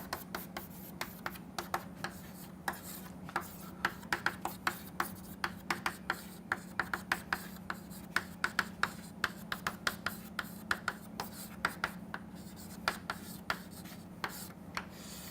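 Pen or marker writing out an equation by hand, a steady patter of short scratchy strokes and taps over a low constant hum, quiet and close, with no talking.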